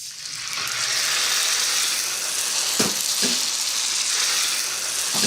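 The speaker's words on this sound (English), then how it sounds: "And add the tomatoes to the onion." Tomatoes hit hot onion in a pan and fry with a loud, steady sizzle that swells quickly and holds, with a couple of faint knocks of a utensil, no talking.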